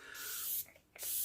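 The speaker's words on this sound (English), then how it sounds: "now my next step is I'm gonna spray just like my nose with my" A NYX Bear With Me spray is misted onto a nose in two short, soft hissing bursts with a brief pause between them, faint and close.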